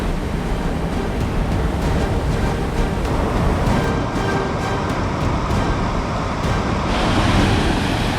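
Waterfalls pour over moss-covered rocks in Ricketts Glen's Ganoga Glen among hemlock trees, making a loud, steady, unbroken roar of rushing water.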